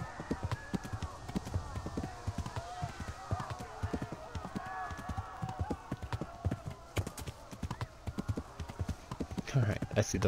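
Horses' hooves clip-clopping in the video game Kingdom Come: Deliverance, a dense, quick run of hoof beats close by with faint background rumble and a player talking over it.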